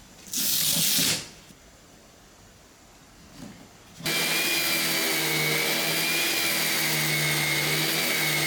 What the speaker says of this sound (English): And now we're back to sanding.